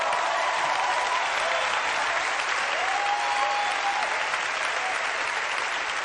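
Steady applause from an audience in a church setting, a dense, continuous wash of clapping lasting throughout, with no voices over it.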